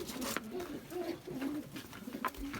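Pigeons coo in a series of soft, low, repeated calls close by, with no speech and a faint background hum between the phrases.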